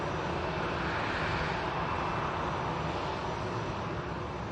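Airbus A321 taxiing toward the second runway at Manchester Airport, heard as a faint, steady engine hum and rumble at a distance, continuous and unbroken, with no voices.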